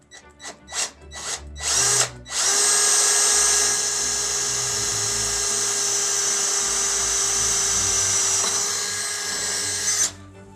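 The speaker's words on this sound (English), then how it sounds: "I have to drill another one down here, which I have marked. So I have a masonry bit here." A power drill with a masonry bit whines in several short bursts, then bores steadily and loudly into brick for about eight seconds before stopping abruptly.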